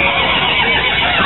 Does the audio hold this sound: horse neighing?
yes